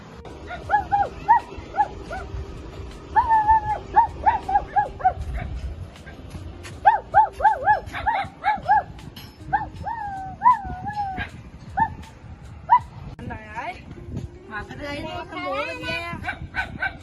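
Dogs yip and whimper in repeated short bursts, some drawn out like whines, close by with clattering background noise.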